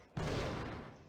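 A single gunshot in the video game Indigo Prophecy: one abrupt, loud boom with a long rumbling decay trailing off over about a second, no talking.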